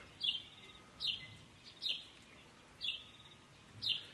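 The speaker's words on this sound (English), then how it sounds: "I've got a whole bunch of Cape Glossy starlings yeah, close to us, that is just going psychotic" Cape glossy starlings calling on a rainy morning at Somkhanda Game Reserve in South Africa, with five sharp, bright calls at roughly even intervals, moderately close against quiet background noise.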